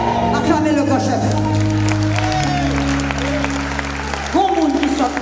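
Congregation at a church service applauding and cheering loudly and continuously, with sustained tonal music and singing-like voices running beneath the crowd noise throughout.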